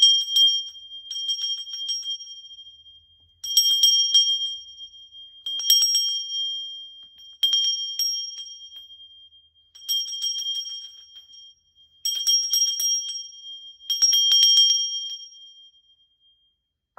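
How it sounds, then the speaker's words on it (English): A small hand bell rung in seven short bursts, each a bright ringing shake that fades before the next, clear and close with quiet gaps between. "I am about ready to ring the bell"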